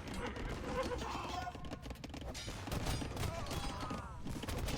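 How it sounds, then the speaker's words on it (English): Rapid booming bombard cannon fire and crackling battle noise from Age of Empires II run continuously, with a voice talking over it. "Especially when they just get splattered by those bombard cannons."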